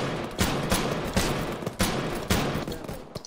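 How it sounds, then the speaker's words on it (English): Gunfire in a military video game with shots coming from the north: a series of sharp, loud cracks spaced irregularly about half a second apart, ringing out over a constant background rumble of battle. "We're getting shot from the north as well."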